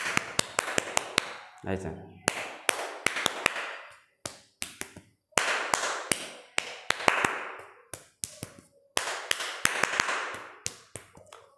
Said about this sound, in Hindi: स्वागत ताली कैसे हो बजाया जाता है?